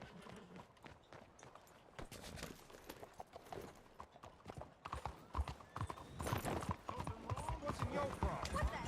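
Horse hooves clip-clopping in the video game Red Dead Redemption 2, an irregular run of hoofbeats that grows louder and faster toward the end, with a voice talking and other game sounds underneath.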